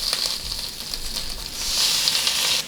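A mackerel fillet fries skin side down in a hot pan, giving a steady, close hiss and crackle that swells louder partway through and continues without a break.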